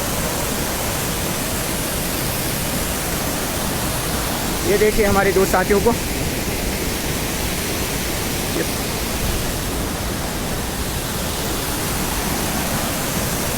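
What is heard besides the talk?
waterfall with fast rushing water on mountain trek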